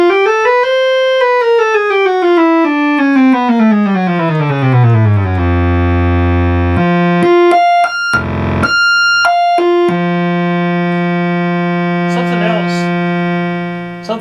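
Buzzy analog oscillators of a fire-damaged, restored Micromoog synthesizer drone loudly with the filter open, sweeping downward in pitch, then jumping between sustained tones with a brief wobbling vibrato near the end.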